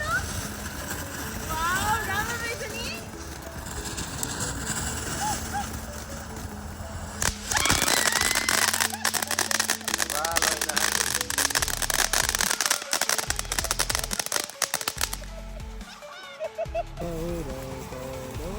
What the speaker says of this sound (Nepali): फायर बल चाहिँ फायर बल बबाल भइरहे धुवा उडिरहे